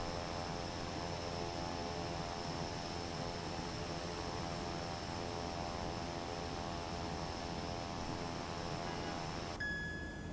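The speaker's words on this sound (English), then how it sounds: "And now the left engine will also start." Left engine of a Cessna 408 SkyCourier starting in Microsoft Flight Simulator 2024, a steady roaring turbine drone with a high whine throughout, and a brief tonal chime near the end.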